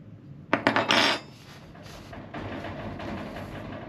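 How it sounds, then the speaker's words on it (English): A short burst of rattling clatter from a desk, several quick knocks of a loose wooden surface, followed by quieter shuffling and faint background noise. "Sorry for the rattling noise, that's the desk I'm on."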